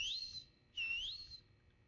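Whistling to call a character in a Backrooms game: two loud, sharp rising-and-falling whistles, each about half a second long, separated by a short pause, with nothing else heard.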